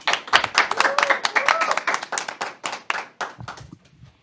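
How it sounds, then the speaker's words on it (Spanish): A small audience gives a short burst of hand clapping that closes a talk-show segment, close and lively before tapering off, with a voice briefly talking over it. "despedimos este segmento con un fuerte aplauso"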